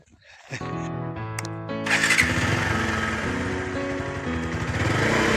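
A motorcycle rides over a rough, dangerous mountain road laid with stone soling. The engine starts with a sputtering idle, then settles into a loud, close, rumbling drive.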